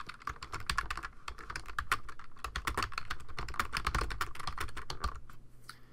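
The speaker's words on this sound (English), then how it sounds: "we'll go ahead and we'll type in the top text up here" Rapid typing on a computer keyboard while entering text in Photoshop Elements: dense, steady clatter of key clicks running for about six seconds, close and clear, stopping just before the end, with no talking.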